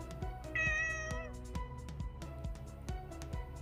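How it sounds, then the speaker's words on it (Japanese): A recorded cat meow from a phone app, one drawn-out meow with clear tonal harmonics over a rhythmic low thumping background, moderately faint. "泣き声はアプリの中の猫ちゃんの声を使いました。"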